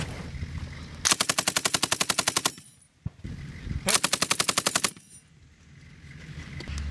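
A .50 cal machine gun mounted on a Humvee fires two long rapid bursts, loud and close, separated by a brief pause, with engine or vehicle rumble filling the gaps.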